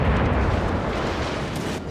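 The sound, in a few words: warship gunfire shot in video game World of Warships Legends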